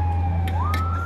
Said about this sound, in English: Because the ambulance, the sirens